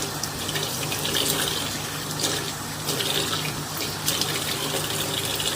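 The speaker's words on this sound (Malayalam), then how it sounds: "വെള്ളം ഒഴിച്ചു" Water runs steadily from a tap into a kitchen sink, a constant broadband splashing rush that holds nearly level throughout with small surges, close by and with no voices.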